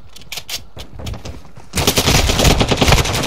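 Rapid automatic gunfire from a Call of Duty Modern Warfare 2 multiplayer match on Xbox Series X: a few scattered shots, then a loud, dense run of fast bursts that ends abruptly.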